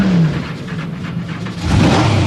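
Drag car with a 572 cubic inch blown, alcohol-injected big block Ford engine rumbling and revving, a loud, rough, dense roar that surges near the end, close by with no talking.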